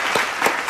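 Brief burst of applause from a small group, steady clapping for under a second with two slightly louder peaks, no voices over it.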